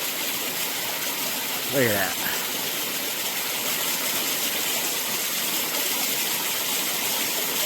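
A mountain stream shoots out as a small waterfall along a trail near Eliza Brook, giving a steady, loud, broadband rushing roar throughout, with a brief spoken remark early on.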